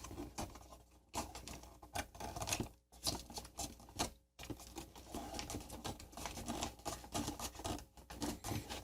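Ansco Shurshot 120 box camera film being advanced, a run of small clicking, ratcheting and rustling mechanical sounds, close and fairly steady with brief pauses, no talking.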